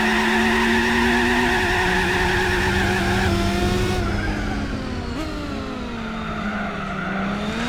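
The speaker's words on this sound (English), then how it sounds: "Just did a whole third gear burnout." A car in Gran Turismo 4 roars through a sustained third-gear burnout, the engine note loud and continuous with tire squeal layered on top, dipping and shifting pitch partway through, with no speech.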